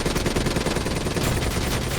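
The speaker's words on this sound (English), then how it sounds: "Get that minigun from the mobile armory." Minigun firing in Call of Duty Black Ops III, a continuous loud, dense stream of rapid gunfire with no gaps.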